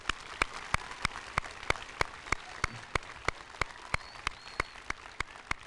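Sparse, evenly spaced hand claps ring out at a school luncheon honoring hometown heroes, a small, thin round of applause with distinct individual claps over a quiet room.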